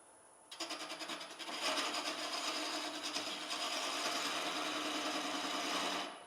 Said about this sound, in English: this will be everyone's first time of watching me actually on a lathe.